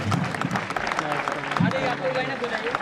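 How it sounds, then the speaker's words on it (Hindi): At a traffic awareness campaign gathering, people clap for three NCC children, brisk scattered applause mixed with overlapping voices and background chatter. "जोरदार ताली, एक बार जोरदार ताली"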